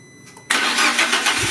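A Fiat Panda 100HP TJet cranks briefly after quiet fuel-pump priming, then catches and roars into a loud, steady running note close by.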